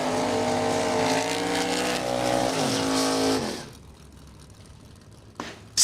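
Door cars launching at a drag race, engines screaming loud and high as they rev and pull away, then fading sharply into distant track ambience before a brief burst of noise at the end.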